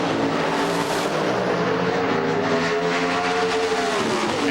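NHRA drag racing cars at the 1994 Champion Auto Stores Nationals roar continuously as their engines rise to full RPM, a loud, dense, sustained mechanical drone with rising harmonic tones and no pauses.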